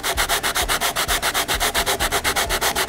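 Pre-stained cedar wood is hand sanded with rough-grit paper in quick, even back-and-forth strokes, making a close, rhythmic scratchy rasp with no voices.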